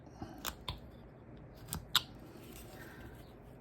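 A carving knife cuts into the ear of a flat-plane wooden figure, making a few short, sharp scraping cuts, close and quiet, with pauses between them and no talking.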